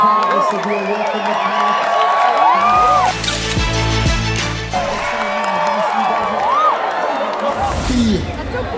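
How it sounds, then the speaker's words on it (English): An outdoor crowd cheers and whoops at a Red Bull Soap Box Race in Cape Town, loud and continuous, with a commentator's voice, a low mechanical rumble in the middle and a brief swell near the end. "Let's hear the crowd. Cheer them on, cheer them on."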